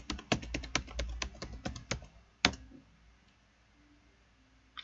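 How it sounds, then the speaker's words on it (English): Quick, close keystrokes on a computer keyboard type a password into an SSH login to a Raspberry Pi 4 running Ubuntu 20.04, about a dozen taps ending in a firm final press, then near silence. "And type in the password you created."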